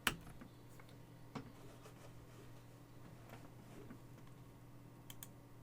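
Faint, sparse tapping of a computer keyboard against a low steady room hum, a few scattered keystrokes with a slightly sharper click at the start and a quick pair near the end.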